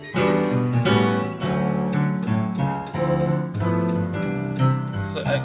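Jazzy piano chords played in a short 2-5-1 progression in D, rich and sustained, close and clear with no talking.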